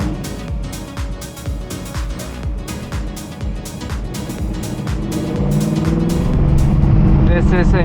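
A classic car with a nasty cam idling loudly after a cold start, its lumpy, uneven engine pulses close by and swelling louder near the end as the revs rise, with someone talking over it.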